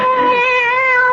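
A cat gives one long, drawn-out meow with a wavering, wailing pitch, loud and close, as a sound effect in an old-time CBS radio mystery drama, with no voices over it.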